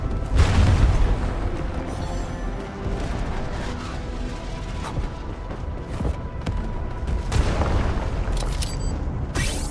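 A UWST strike in Arknights: Endfield: deep booming blasts and rumbling explosions that roll on steadily, with heavy low-end impacts and crackling debris, loud and dense throughout.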